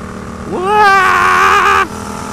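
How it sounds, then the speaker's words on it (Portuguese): A Yamaha MT-07 motorcycle climbing a mountain road lets out an exhaust roar that swells and rises in pitch for about a second, holds, then cuts off abruptly, loud and close. "Ah, sente o ronco pro escape"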